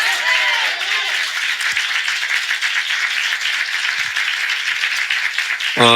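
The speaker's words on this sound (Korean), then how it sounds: "먼저 우리 하나님께 박수로 영광 돌리겠습니다" Sustained applause from a church congregation at a Sunday morning service, dense rapid clapping throughout; a voice comes in at the very end.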